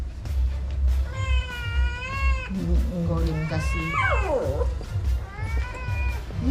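A cat meows several times, long drawn-out wavering cries, over a low background with a person briefly speaking.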